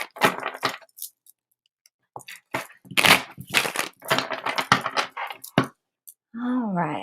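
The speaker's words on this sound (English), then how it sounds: "Let me get one more good clearing shuffle in." Tarot cards are shuffled in bursts of crisp riffling and snapping, irregular and close, separated by pauses, with a voice speaking briefly at the end.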